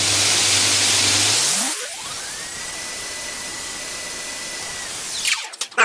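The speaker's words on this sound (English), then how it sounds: "profile the knife around the edge while we've got this flat platen with a 40 grit" Belt grinder running a 40 grit belt on a flat platen while profiling a bushcraft knife, a loud hissing grind that drops as the motor winds down with a falling whine, then brief clatter at the end.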